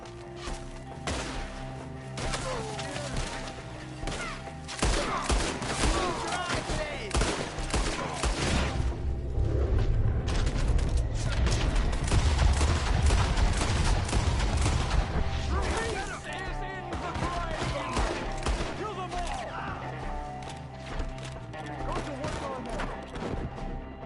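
Heavy gunfire including shotgun blasts in a Red Dead Redemption 2 shootout, dense bursts peaking mid-stretch amid game music and shouted voices.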